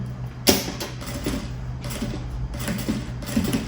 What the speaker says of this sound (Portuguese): Pronto, costurei então o viés.